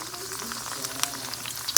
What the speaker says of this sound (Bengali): এখন আমি ফুচকা ভাজা করছি